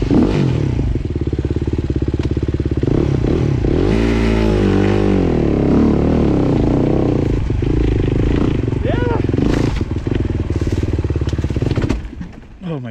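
A motorcycle engine fails to start in gear: repeated clattering cranks and sputtering revs rise and fall up close, with a rider speaking over the mechanical noise.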